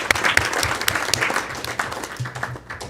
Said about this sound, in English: So a big round of applause then too, just for Steve, and thankful.